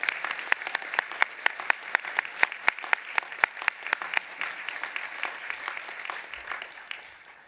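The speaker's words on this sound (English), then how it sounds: "your support crew have earned one more round of applause, and audience, the graduates as well" Audience applause fills a university graduation ceremony hall: sharp, distinct hand claps at a brisk, steady pace that gradually softens toward the end.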